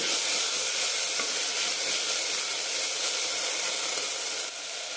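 Tomatoes sautéing in a pan, a loud dense hissing sizzle that holds steady throughout and eases slightly at the very end.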